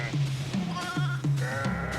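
Several goats bleating in quick succession, short wavering cries repeating about every half second, close and clear with no talk over them.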